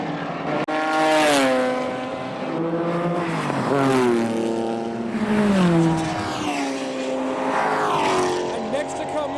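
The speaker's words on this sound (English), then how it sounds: "now we've got the GT40 versus the Audi going for the overtake." A Ford GT40 and an Audi race car pass on a track during a track day, a loud, close engine roar rising and falling as they go by, with someone talking over it.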